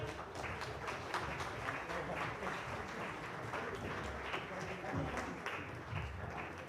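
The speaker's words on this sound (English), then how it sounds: "Can we have a round of applause for them?" An audience at a live corporate quiz grand finale gives a round of applause for the finalists returning to the stage, a steady, fairly distant patter of many hands with some voices mixed in.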